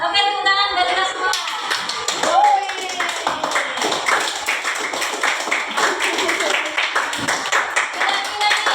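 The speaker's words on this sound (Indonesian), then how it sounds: "tepuk tangan dari kita semua" A classroom group claps with quick, dense hand claps that go on steadily for several seconds. Voices talk and call out over and under the applause.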